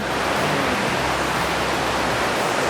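Khlong Lan waterfall in Kamphaeng Phet, Thailand, a large cascade giving a steady, dense roar of falling water that fills the whole stretch with no voices.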